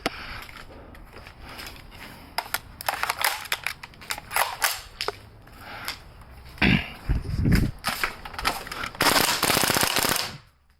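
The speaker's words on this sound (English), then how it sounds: "I'm going to use a airsoft gun" An airsoft gun fired in a home demonstration, giving a scattered series of sharp, snappy pops with clustered bursts and rattling impacts, and a loud, dense stretch of noise near the end.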